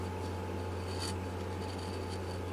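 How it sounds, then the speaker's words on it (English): A chisel scrapes wood from a high spot on the neck of a 1966 Guild Starfire guitar, soft close rubbing strokes over a steady background hum. "Now I'll go in with a chisel and get rid of that high hump."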